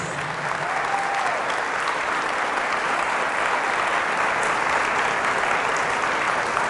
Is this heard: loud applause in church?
yes